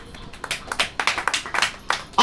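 A church congregation clapping hands together in a quick, fairly steady rhythm of about a dozen sharp claps, close and moderately loud with no talk over it.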